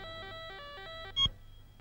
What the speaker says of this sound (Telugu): నీ ఫోన్